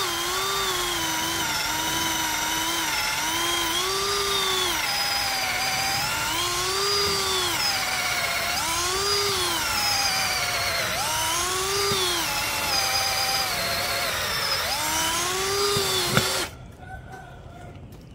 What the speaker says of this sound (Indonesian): kita gunakan langsung mata bor auger 10 mm. Kecepatannya kita gunakan kecepatan nomor 2, modenya mode drilling. Media yang kita bor adalah kayu mahoni